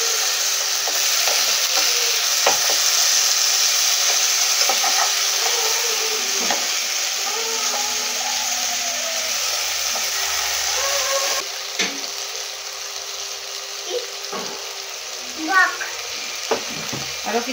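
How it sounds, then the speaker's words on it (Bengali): Chicken legs fry in a little oil in a wok, a steady close sizzle with occasional stirring and scraping, while a voice talks over it. "খুবই সামান্য তেল দিয়ে ভাজছি"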